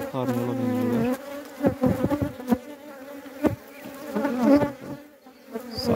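Honey bees buzz in a beehive, a close, dense hum with individual bees whining past in rising and falling passes, with no voices.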